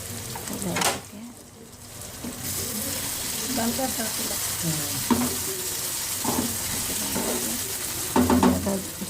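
Green chillies and tomatoes for kebab masala cook in a pan with a steady low sizzle and occasional spoon clinks and stirring, heard up close while a voice speaks intermittently over it.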